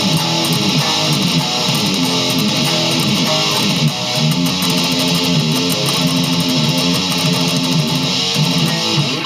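Distorted electric guitar plays a transition riff in dense, fast, aggressive picking, loud and unbroken, with no voices.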